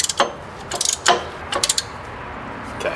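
A ratcheting tool is cranked to free a stuck brake caliper on a Blazer, giving short bursts of sharp metallic clicks in uneven groups with pauses between, close and fairly loud.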